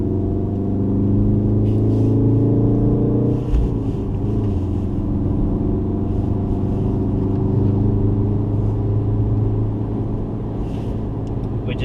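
A Volkswagen Golf R on a cool-down lap of a race track at a trackday, its engine a steady low drone with a smooth, even cabin rumble throughout, no hard revving and no talk over it.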